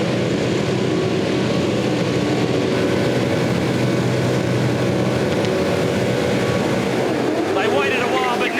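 V8 Supercars wait on the grid before the race start at Sandown, a dense, loud wash of engine rumble and crowd noise that holds steady, with rising revs near the end.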